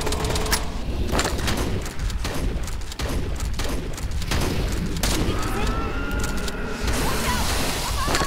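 Sustained automatic gunfire from VR game Bleeding Hunt shooting up plants in a jungle dinosaur park, dense rapid bursts filling the whole stretch with steady loud crackle.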